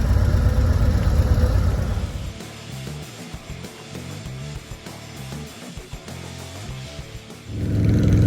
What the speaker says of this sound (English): the new CVO demo ride from Harley with the new fairing on it, with the 121 motor on it